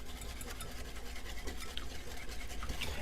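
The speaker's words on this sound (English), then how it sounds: "I have 2 eggs, 1/2 cup of sugar, 1 cup of evaporated milk. We're going to whisk this together." Eggs, sugar and evaporated milk whisked together in a bowl for beignet batter, a steady close scratchy swishing that keeps up without pause over faint background noise.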